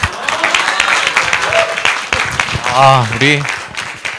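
An audience at the Seongmin Church 2024 teacher seminar, a teacher-coaching session, breaks into loud, close clapping, with a voice speaking over the applause.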